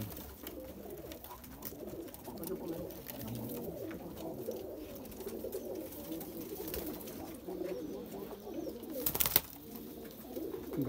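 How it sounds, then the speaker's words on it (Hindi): Mixed-breed pigeons coo softly and continuously, low murmuring calls blending together, with a brief louder flutter or scrape near the end. "बहुत ही अच्छे कबूतर हैं क्योंकि भैया के"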